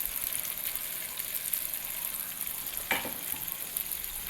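Fried brinjal goes into colocasia cooking over a wood-fired stove, giving a steady quiet sizzle with one brief louder splash-like hiss as it is added.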